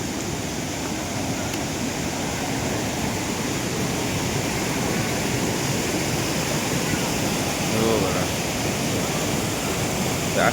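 A waterfall roars steadily from just above the falls, a dense, unbroken rush of water that stays loud and even throughout.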